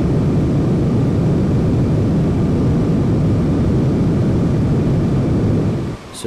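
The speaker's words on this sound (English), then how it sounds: "reverse thrusters, and let the plane slow down on its own" Airplane rolling out after landing at Paro Airport with reverse thrust, a loud steady roaring engine rumble that holds for several seconds before dropping off at the end, with no talk.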